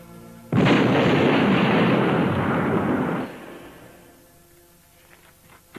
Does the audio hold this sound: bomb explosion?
yes